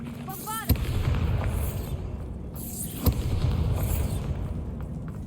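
Two sharp spell explosions from the Bombarda spell in the Hogwarts Legacy video game, each a sudden boom followed by crackling debris, set against a game ambience of whooshes and a faint voice.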